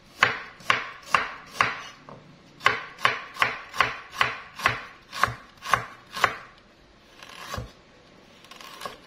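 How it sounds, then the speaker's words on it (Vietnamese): Quick knife chops thinly slicing ginger on a cutting board, a run of sharp evenly spaced cuts with a brief pause midway, close and crisp. "Gừng thì mình sẽ cắt mỏng ra."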